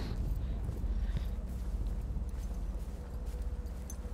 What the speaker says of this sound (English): okay why do we have horse here i don't get it